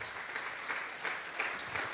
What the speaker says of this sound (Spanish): Démosle un fuerte aplauso pues al Señor